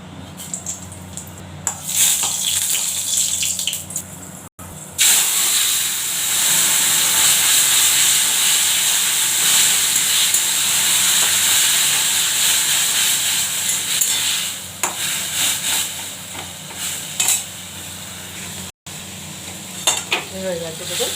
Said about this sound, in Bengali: কলমি ভাজা হচ্ছে